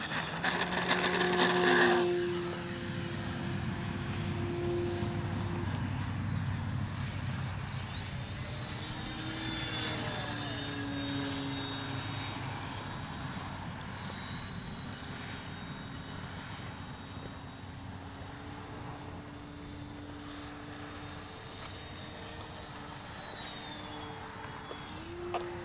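An FMS Ranger radio-controlled model plane takes off and flies, its electric motor making a steady high whine with shifting pitch throughout, moderately loud and without any voices.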